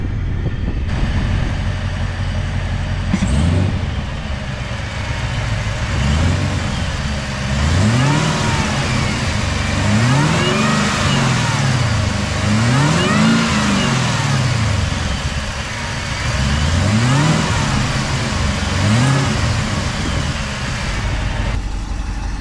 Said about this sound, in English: so you guys could get some sound clips of the supercharger whine